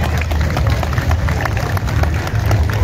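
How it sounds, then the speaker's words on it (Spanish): Crowd applause at an outdoor civic parade in Virgen de Fátima, Ecuador: dense, continuous clapping with crowd murmur and some background rumble, loud and sustained throughout. "Vamos a darle un aplauso a Papito Dios por darnos un día más de vida"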